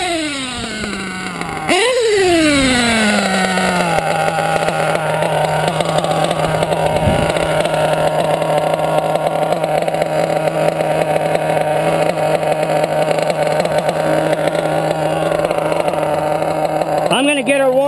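A nitro .28 RC engine with a 4-shoe clutch fires up with a rising buzz and settles into a loud, steady, high-pitched idle while warming up, close and continuous, with a short blip near the end.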